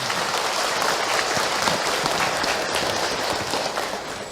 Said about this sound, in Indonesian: Tepuk tangan buat ayahanda beliau